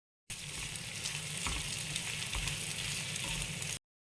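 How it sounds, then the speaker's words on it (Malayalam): Breadfruit, tomato, green chilli, onion, ginger and garlic sauté in a hot pan, giving a steady, close sizzle with occasional stirring scrapes, no voices. "ചീമച്ചക്കയും തക്കാളിയും പച്ചമുളകും ഉള്ളിയും കുറച്ച് ഇഞ്ചിയും വെളുത്തുള്ളി എല്ലാം കൂടി ഇട്ടൊന്ന് വഴട്ടിയെടുക്കും"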